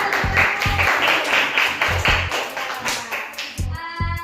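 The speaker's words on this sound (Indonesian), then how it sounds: "berikan tepuk tangan" A class of sixth-grade pupils claps hands in a few short bursts of loud taps, with a pause between groups and a brief voice near the end.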